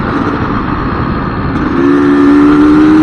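A six-gear motorcycle accelerates on the road, its engine a loud, steady roar under heavy wind rush, with a higher engine tone rising and holding partway through.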